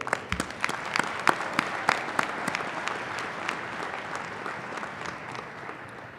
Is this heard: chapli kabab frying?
no